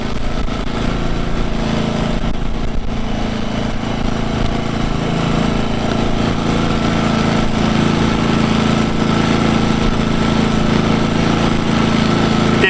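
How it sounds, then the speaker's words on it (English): An Engel 2500W portable generator with a 120cc engine runs steadily at constant revs, a continuous close, loud droning hum with an even tone and no change in speed, with no voices. "Generator hasn't even had to ramp up the revs."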